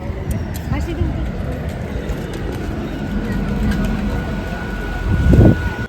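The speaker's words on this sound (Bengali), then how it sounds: "এই ট্রেনে উঠলাম আর বসার জায়গাও পেয়ে গেছি ট্রেনটা একটু ফাঁকা" Rumbling interior of a moving, fairly empty commuter train, a steady low roar with rattles and clicks, a faint whine, and a louder thump near the end.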